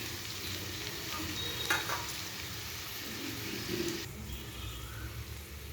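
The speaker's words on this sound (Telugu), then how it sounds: "ఇప్పుడు దొండకాయలు వేసుకోవాలి." Ivy gourd pieces stir-fried in a hot pan for an ivy gourd and chana dal curry: a steady, dense sizzle with scraping stirring strokes, close and continuous, with no talking.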